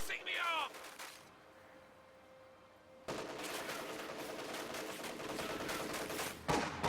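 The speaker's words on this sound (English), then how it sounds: "Kubel wagon firing on the Blob." Kubelwagen machine-gun fire in a WWII real-time strategy battle with Volksgrenadier squads, heard as rattling bursts of gunfire and battle noise, with a quiet gap before a sustained loud stretch of shooting and a sharp burst at the end.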